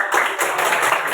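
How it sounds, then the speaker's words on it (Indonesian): A group giving a brief burst of dense, loud applause, many hands clapping together for just over a second. "Kasih tepuk tangan untuk"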